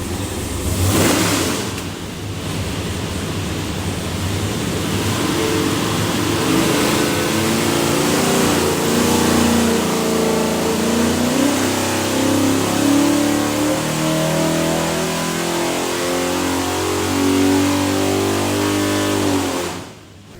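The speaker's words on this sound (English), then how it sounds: "Let her make a run, see what she does." A 582ci big block Chevy airboat engine with a carburetor runs on a dyno, roaring loud and steady for about twenty seconds with a brief rev at the start, then cutting off at the end.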